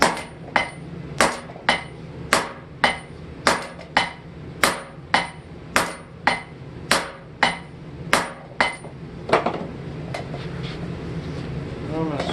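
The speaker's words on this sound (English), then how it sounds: "start fullering it with my cross peen." Cross peen hammer fullering hot steel while reshaping an old hammer head into a welding chipping hammer: about fifteen sharp, ringing blows struck at a steady, even rhythm, close and loud, then a few softer, irregular taps.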